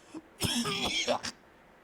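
Rough coughing at close range: a few harsh, hacking bursts in quick succession, then quiet.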